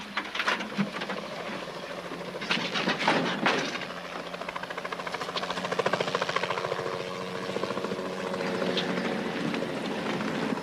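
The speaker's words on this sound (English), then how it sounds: "Isn't that the same chopper we saw before?" A helicopter's rotor thumps and engine drone persist throughout, fairly loud and steady, as if hovering or passing overhead.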